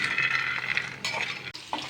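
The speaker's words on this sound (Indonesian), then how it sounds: "Bawang putih sama cabai sama sangrai ya, campur dengan kacang." Garlic, chili and peanuts being dry-roasted together in a pan give off a soft, steady crackle with faint scraping of stirring. The sound is close but quiet, with no talk.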